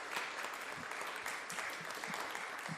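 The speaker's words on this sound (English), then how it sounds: "We got a round of applause, everybody." A crowd claps steadily, a dense patter of many hands applauding without pause.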